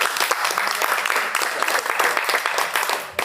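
Audience applause at a mentorship talk, steady dense clapping from a sizable crowd throughout, fairly close and loud with no voices over it.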